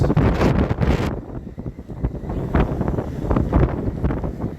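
Strong typhoon wind from Typhoon Opong buffets the microphone in loud, gusting roars, with a harsh blast at the start and uneven surges throughout.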